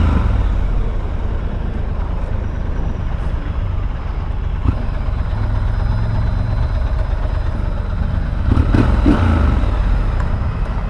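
A Triumph Scrambler 1200 motorcycle engine runs with a steady, loud low rumble and constant wind buffeting, as if heard while riding, with a few brief clicks and a slight swell near the end.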